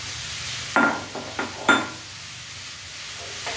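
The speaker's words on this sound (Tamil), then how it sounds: "நம்ம எடுத்து வச்சுருந்த மாங்காயை அப்படியே தண்ணி சத்து இல்லாமல் நல்லா வதக்கிடலாம்" Raw mango pieces for pickle are being sautéed in a pan, giving a few short clattering stirs and scrapes over a low, quiet background with no talk.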